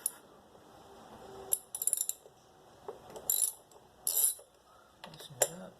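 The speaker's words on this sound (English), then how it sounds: "these 2 bolts for this coil is 10mm, so just go ahead and take those out" Hand ratchet working loose the 10mm bolts on an ignition coil pack of a 2004 Mitsubishi, with several short bursts of quick clicking close by between quieter pauses of engine-bay handling.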